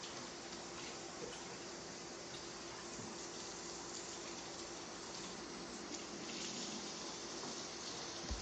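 Tap water pours steadily over a watermelon being rinsed, a constant hissing gush close by with no talking.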